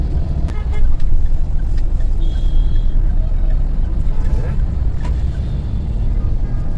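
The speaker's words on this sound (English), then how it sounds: "putting the pedal to the metal. That was 3000 RPM, and within no time I'm doing 70." A diesel Mahindra Thar with an automatic gearbox accelerates hard to about 3000 RPM on a city road. The engine and road roar stay loud and steady throughout, heard from inside the cabin with no talking.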